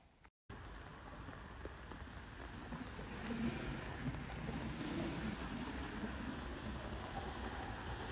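Steady rain pours outdoors, a dense continuous hiss that swells slightly louder partway through, with no voices over it.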